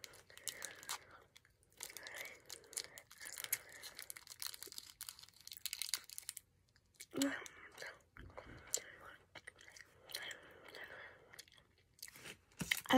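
Close, crunchy chewing of sour candy, with soft biting and wrapper crinkles repeating over several seconds while someone whispers.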